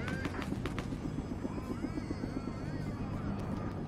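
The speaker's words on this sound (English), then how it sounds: "So the helicopter's going down somewhere." A helicopter in the Fortnite video game, with a steady rhythmic rotor thump under low engine rumble, moderately loud, with game effects around it.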